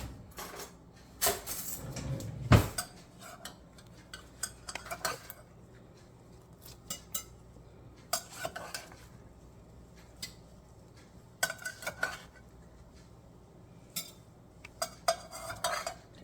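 Egg muffin cups being taken out of a baking pan after the oven, with irregular bursts of clinking metal and dishes clattering nearby, separated by quiet pauses.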